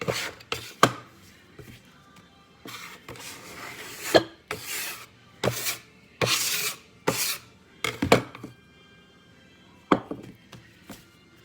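Garlic rosemary dinner roll dough is rolled and folded by hand on a work surface, giving a series of close, irregular rubbing and slapping scrapes, one after another with short pauses between.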